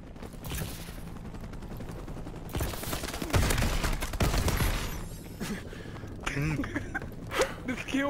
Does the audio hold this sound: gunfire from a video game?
yes